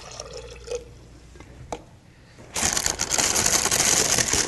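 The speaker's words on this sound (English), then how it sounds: "So I'm going to put about a cup of water" Water pours into a blender jar, a few faint drips and taps first, then a loud, steady splashing gush that fills the last couple of seconds.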